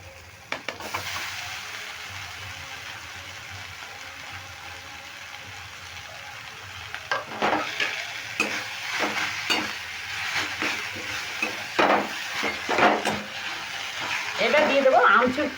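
Grated potato and carrot fry and get stirred in a pan, a soft sizzle throughout with scraping stir strokes growing busier in the second half, under a person talking.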